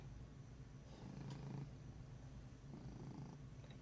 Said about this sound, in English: he's purring really loud